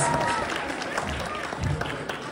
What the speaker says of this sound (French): Si vous voulez nous applaudir encore une fois